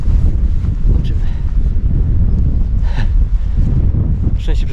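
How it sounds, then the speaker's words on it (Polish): Wind blowing through the waterfall valley at Mahon Falls, buffeting the microphone with a loud, continuous low rumble that gusts and swells throughout, with a few faint brief sounds above it. "Niemniej jednak jest wiatr, który jak zawsze tutaj deprymuje."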